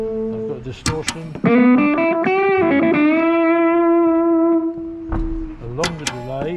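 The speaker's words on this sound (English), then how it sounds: "I've got a distortion." Electric guitar played through a distortion patch on a pedalboard, a sustained gritty note bending and held for several seconds after a few picked notes, loud and close, with brief bursts of talk at the start and end.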